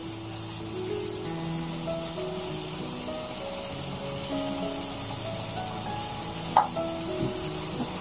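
Freekeh sautéing in a pan with black pepper, cumin and other spices gives a soft, continuous sizzle with stirring scrapes and one sharp clink partway through, fairly quiet throughout.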